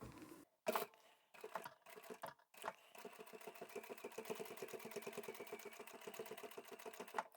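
A sewing machine top stitches around a fabric craft pouch, opening with a few short separate bursts before settling into a steady, rapid, even run of stitching close up, with no voices.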